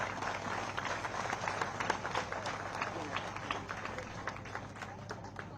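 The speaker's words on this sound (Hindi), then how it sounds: "सबके लिए तालियां बजा सकते हैं।" A crowd of children claps in an outdoor gathering, a dense, lively patter of many small hands that runs on steadily, with a voice faintly underneath.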